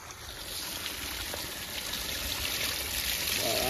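Spring water welling up from the ground in the Chaupahari forest flows with a soft, continuous trickling rush, fairly faint and unbroken, with no speech.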